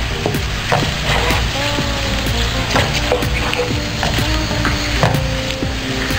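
Cloves, black pepper and black cardamom fry loudly in a hot pan, giving a steady close sizzle with crackling pops and occasional stirring scrapes throughout.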